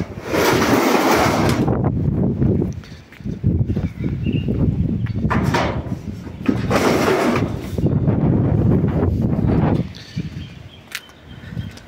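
Strong stormy wind at a house roof construction site roars and buffets the microphone in loud, surging gusts that rise and fall, with brief calmer gaps between blasts.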